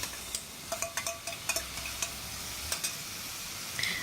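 Finely chopped tomatoes and onions frying in oil for chana masala give a soft continuous sizzle, with a quick series of clicks and taps from a spoon against the pan and no voices.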